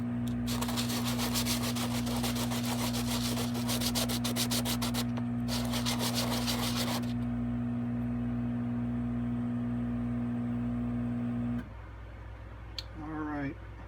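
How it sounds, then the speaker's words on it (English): Hand sanding with medium grain sandpaper on the edges of a part, a steady scratchy rubbing for about seven seconds over a constant mains-like hum, then the rubbing stops and the hum continues, with brief faint sounds near the end. "This is just some medium grain sandpaper."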